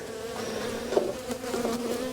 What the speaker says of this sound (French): des abeilles noires mélangées avec des abeilles